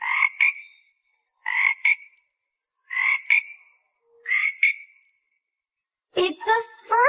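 Frogs croak in a children's jungle animal song, five short rasping calls in a steady rhythm, loud and close, with a high tone running behind them and a voice at the end.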